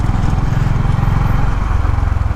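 A Honda CB350 RS motorcycle engine runs steadily in a loud, continuous low throb with an even mechanical pulse and no voices.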